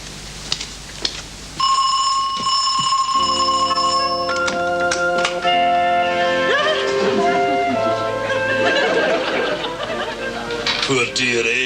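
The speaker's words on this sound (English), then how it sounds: "I bet you're wondering how she managed to press the doorbell, Jimmy." A doorbell in a BBC Christmas comedy special chimes a short melody of bright, sustained tones that ring out clearly, with some clatter and voices toward the end.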